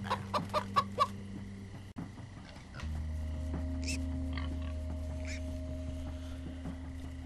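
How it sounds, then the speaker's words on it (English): Minecraft Story Mode chicken clucking in a quick run of sharp clucks at the start, then a low steady hum with faint chirpy noises beneath, no voices. "Chicken."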